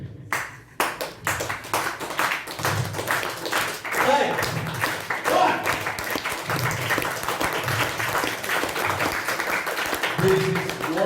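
A room of people at a Periyar youth leadership programme breaks into steady clapping that lasts the whole stretch, with scattered voices mixed in.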